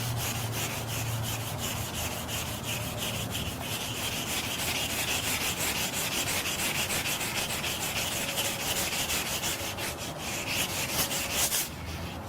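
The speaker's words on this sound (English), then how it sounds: "This wet dry sandpaper is very old and probably will crinkle up and fall apart, but it will serve its purpose for right now." Old wet-dry sandpaper rubbing steadily back and forth, close up, in a continuous gritty rasp that carries on with no pauses for the whole stretch.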